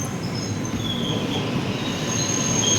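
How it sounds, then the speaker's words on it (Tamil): A Kollam to Sengottai passenger train pulls away, wheels rolling and squealing steadily on the rails, with a continuous rumble and a faint high screech heard from inside a sleeper coach, no voices. "ஷார்ப்பாக 12 மணிக்கு கிளம்பிடுச்சு வண்டி"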